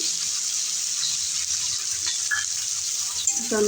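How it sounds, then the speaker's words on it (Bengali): Chopped onions fry in oil with cumin seeds, producing a soft, even sizzling hiss at moderate distance, with a few light clinks and stirring sounds toward the end. "এবার আমি দিয়ে দিচ্ছি পেঁয়াজ কুচি"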